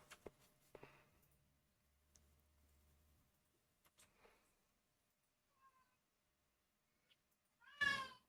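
A housecat lets out a loud meow near the end, preceded by a few faint clicks and quiet rustles in an otherwise silent room.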